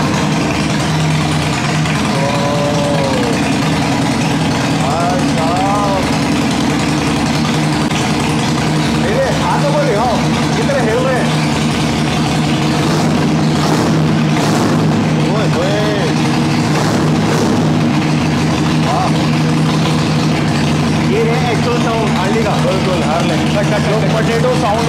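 A Harley-Davidson cruiser motorcycle engine rumbles loudly and steadily at close range, idling with a deep throb and a few slight revs.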